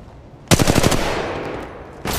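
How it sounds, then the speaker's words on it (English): Automatic gunfire in Apex Legends Mobile, a fast close burst of shots that trails into a decaying echo, then another burst begins at the end. "They're shooting at me! Under fire here."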